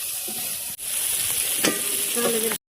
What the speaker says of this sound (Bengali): কলি ভাজা হচ্ছে এদিকে, পেঁয়াজ কলি ভাজা হয়ে গেলেই আমাদের অলরেডি রান্না কমপ্লিট